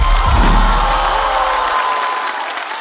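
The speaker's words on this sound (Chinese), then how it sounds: "掌声欢迎小齐" Studio audience at a stand-up comedy show applauds and cheers to welcome a newcomer comedian from northeast China, a dense, steady roar of clapping and crowd noise that fades slightly toward the end.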